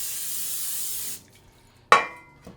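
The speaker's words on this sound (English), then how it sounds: "we're gonna spray a 9-inch cake pan with a little bit of cooking spray" Cooking spray hisses steadily into a 9-inch cake pan for about a second, then stops, followed by a sharp clink and a short fading rattle of the pan.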